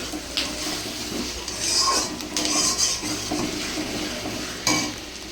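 Spatula scraping and stirring a thick meat spice paste for chicken kosha in a hot pan, with a steady sizzle and occasional clinks of metal against the pan.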